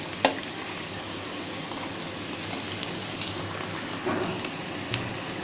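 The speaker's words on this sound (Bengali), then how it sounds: "এগুলোকে আমি ব্রাউন করে ভেজে নিব" Cauliflower singara deep-frying in hot oil until brown, giving a continuous soft sizzle and bubbling with a few faint clinks and pops, heard alone.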